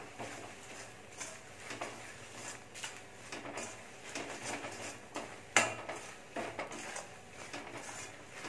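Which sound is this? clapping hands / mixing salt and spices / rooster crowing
mixing salt and spices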